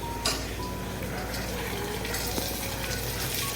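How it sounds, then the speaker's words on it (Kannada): Field beans (avarekai) with browned onion frying in oil, a continuous close sizzle with occasional stirring clinks from a utensil in the pan, steady throughout. "ಅವರೆ ಬೀಜ ಎಲ್ಲ ಬಿಟ್ಟು ಈಗ ಸ್ವಲ್ಪ ಎಣ್ಣೆಯಲ್ಲಿ ಈ ಥರ ಫ್ರೈ ಆಗಬೇಕು"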